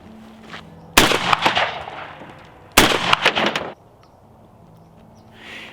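Two loud shotgun blasts from a reloaded Remington STS shotshell hull, about two seconds apart, each a sharp crack followed by a short echoing tail, then quiet outdoor ambience.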